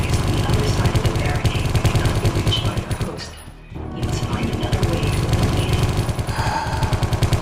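Rapid automatic gunfire from the video game Geist, a loud, dense stream of shots that drops away briefly near the middle and then resumes at full intensity.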